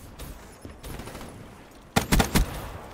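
Gunfire from a video game: a short cluster of sharp, loud shots near the end, preceded by quieter muffled game noise.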